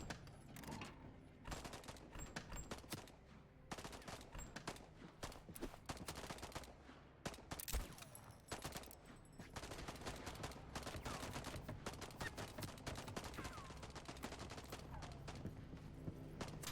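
Rapid gunfire from a firefight in the video game Voidtrain: dense bursts of shots and automatic fire crackle continuously, with a sharp louder hit near the middle and no speech.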